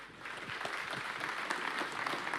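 Steady applause from an audience, many hands clapping continuously at moderate volume.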